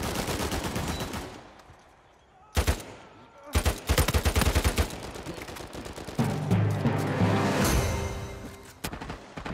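Gunfire from players in the Uncharted 4 multiplayer shooter pours into a box: rapid bursts and heavy, close shots crack out in uneven clusters over a busy game soundscape.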